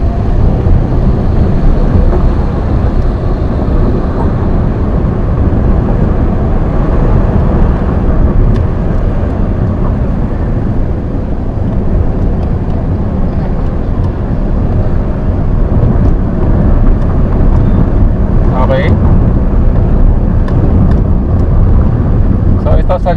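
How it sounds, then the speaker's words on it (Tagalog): A car engine drones in 4th gear while climbing uphill after a downhill stretch, a loud, steady low hum that labors continuously with little change and no clear gear shifts. "Pakinggan nyo yung ugong ng makina."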